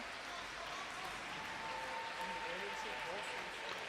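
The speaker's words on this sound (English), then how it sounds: "lots of claps of approval from this appreciative crowd" An appreciative crowd at a Paralympic table tennis match at the 2012 London Games claps steadily, a dense, even wash of applause sustained throughout.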